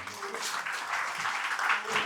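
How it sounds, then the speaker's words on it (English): Brief burst of audience applause at a university HR interview session, steady clapping throughout, with faint talk underneath. "A big round of applause for us."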